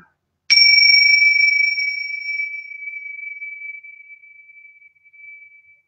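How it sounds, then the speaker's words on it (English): A single strike of a bell opens a gathering, ringing out clearly from silence with a pure sustained tone that slowly fades over several seconds. "I'm going to ring this bell and bring us into opening of our gathering."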